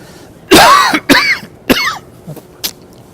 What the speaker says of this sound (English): I think I'm going to cough